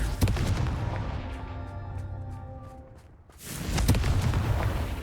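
A Confringo blasting spell explodes in a Harry Potter video game, a loud booming burst with a ringing, decaying tail, followed by a second heavy blast and crackling debris.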